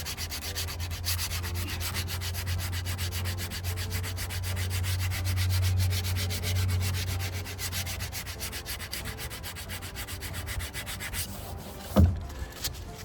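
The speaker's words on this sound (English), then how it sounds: "Get your little sandpaper on there." Sandpaper rubbed by hand over a playground pole to remove shipping scuffs, a steady continuous scratchy rasp lasting several seconds close up, then stopping with a brief knock near the end.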